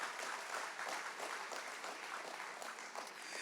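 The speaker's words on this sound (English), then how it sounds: "let's one more time give all of our sponsors a huge round of applause, please" An audience at a vocal competition show gives a round of applause, a steady, fairly faint and distant wash of clapping that holds evenly throughout without any voices on top.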